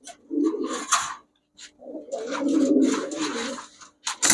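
Pigeons at a pigeon shop coo close by, a few throaty, rolling coos in bursts separated by short pauses, clear and fairly loud with no talking over them.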